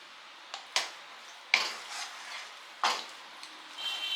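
Ghee being stirred into a moong dal sweet in a pan, with a few sharp spoon scrapes and knocks against the metal, spaced irregularly and fairly quiet in an otherwise calm kitchen.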